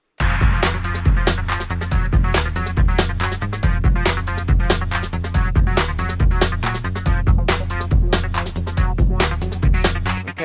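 Loud techno played live on synths and drum machines, with a driving four-on-the-floor kick, busy hi-hats and throbbing synth bass, steady and relentless throughout.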